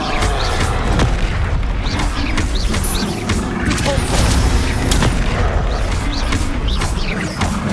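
Bombarda spell explosions in the video game Hogwarts Legacy, dense booming blasts and rumbling over a continuous loud roar of battle, with shouted voices mixed in.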